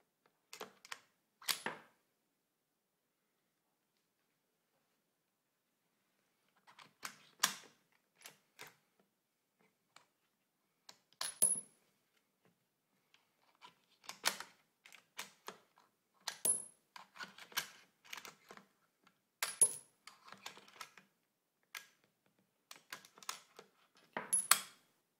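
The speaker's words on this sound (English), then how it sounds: "If I need to pull the cartridge back, it's easily done." Metallic clicks and slides of a Mauser M98 rifle bolt being worked to pull a cartridge back, close and crisp, scattered short bursts separated by silent gaps, no talking.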